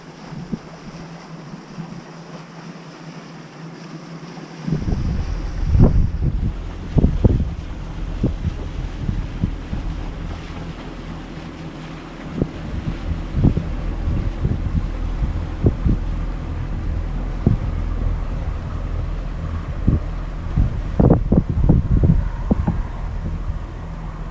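Wind buffeting the microphone beside the River Ouse at Littleport, with loud gusty rumbles and thumps that begin after a quiet opening and continue in uneven bursts throughout.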